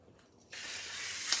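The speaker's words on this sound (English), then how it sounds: "calamari and drop them in, little by little, guys. And we let it cook." Pieces of calamari for a fisherman's risotto hit a hot pan and set off a sudden soft hiss of sizzling that carries on evenly and faintly, with no one speaking.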